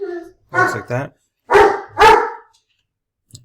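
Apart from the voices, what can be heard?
dog barking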